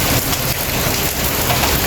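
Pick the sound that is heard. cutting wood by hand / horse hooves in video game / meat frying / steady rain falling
steady rain falling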